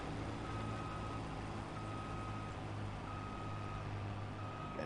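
Vehicle reversing beeps from a truck backing up to a trailer during a corn harvest in Farming Simulator, a steady repeating beep over a constant engine drone.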